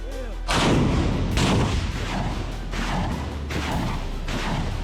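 Humvee-mounted multiple rocket launchers fire in a rapid series of loud, booming blasts with rushing roars, several launches close together and nearby.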